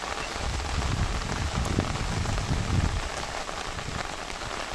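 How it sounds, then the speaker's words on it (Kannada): Heavy monsoon rain pours steadily in Kodagu, a dense, loud hiss of drops hitting the ground with no voices. "ಮಳೆ ಜೋರಾಗಿ ಸುರಿತಾ ಇರೋದ್ರಿಂದ"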